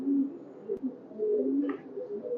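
A pair of red-necked highflyer pigeons at a pigeon farm in Khulna give soft, low cooing calls, close and fairly quiet, with a short sharp tap early on.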